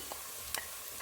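Spices such as cumin, coriander and chilli powders sauté in a pan for dhaba chicken, giving a soft steady sizzle close by, with a few quick scraping stirs cutting through.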